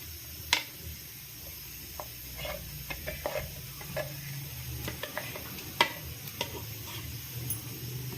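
Blended jackfruit is stirred in ghee in a pan on a gas stove, with scattered light ticks and taps of a spoon against metal over a quiet, faint sizzle; no one speaks.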